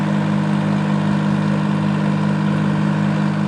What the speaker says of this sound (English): Got something running over there on the other side. It sounds like a pump of some sort